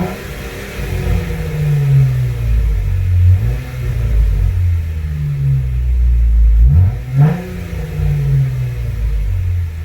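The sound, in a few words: 2016 Jeep Wrangler Rubicon revving with Flowmaster Outlaw muffler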